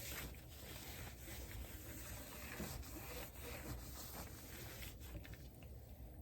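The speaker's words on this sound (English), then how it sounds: "Now, I'm just going to apply the rubbing buff." Gold rubbing buff being applied to a vintage-looking thrifted frame, a quiet, close, continuous rubbing and brushing with soft repeated strokes and no talking.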